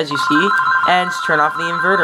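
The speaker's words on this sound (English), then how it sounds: "And that is my phone, so be right back." A phone ringing with a steady electronic tone under continuous close talk, its bright ringing pitch holding throughout while someone speaks over it.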